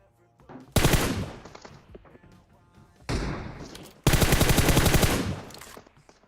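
Bursts of M4 rifle fire in the PUBG Mobile game: a short rattle near the start, then a longer sustained automatic burst, a brief pause and another loud extended volley, all close and sharp with no talk.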